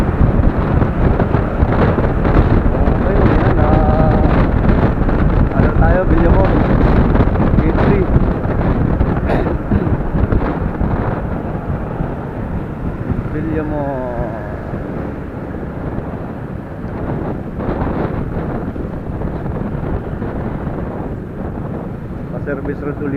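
Heavy rain pours down suddenly while riders shelter under a bridge with a Motorstar Easyride150Fi motorcycle. The dense, loud roar of the downpour runs continuously, with gusty rumbles and voices talking over it.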